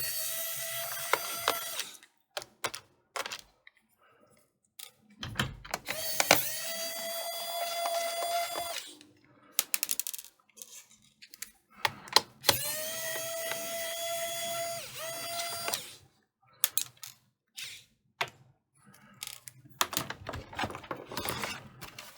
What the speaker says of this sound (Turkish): Bu vidaları sökersek klavyemiz çıkacak.